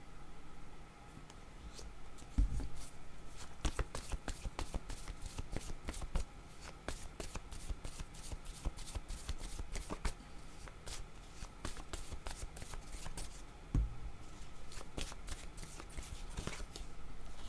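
Tarot cards are shuffled by hand in a steady flurry of riffles and soft slaps, close and continuous, with a couple of heavier thumps and no talking.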